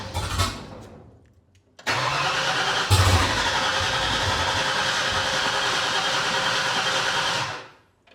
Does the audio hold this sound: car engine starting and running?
yes